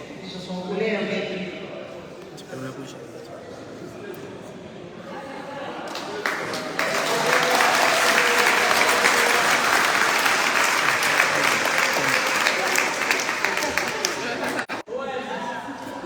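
Sustained crowd applause and cheering for a women's football team, the Arsenal club of Le Robert, welcomed by the town's mayor. The clapping swells after a few seconds, stays loud and dense with voices mixed in, then cuts briefly near the end.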